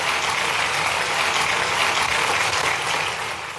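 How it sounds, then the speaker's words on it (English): Conference audience welcoming a speaker with a big round of applause, a dense, even wash of clapping from many hands that fades slightly at the end. "Let us welcome him with a big round of applause."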